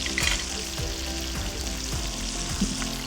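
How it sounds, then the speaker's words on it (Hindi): Chira fish deep frying in hot oil: a steady, close, loud sizzle and bubbling throughout, with a few faint clinks, and no talk. "अब इसको भी हम तकरीबन ऐसे ही 5-7 मिनट तक फ्राई करेंगे अच्छे तरीके से"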